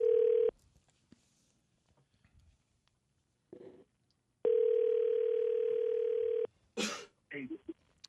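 A telephone call is placed: a steady dial tone sounds, breaks off, then returns for about two seconds before short tone bursts and brief voices follow.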